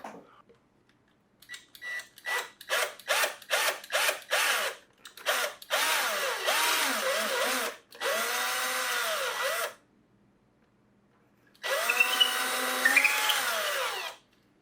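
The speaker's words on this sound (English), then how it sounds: "And so I'm going to get to drilling here." A power drill bores holes into a plastic helmet, starting with a rapid series of short stuttering bursts and then several longer whining runs with pauses between, close and loud.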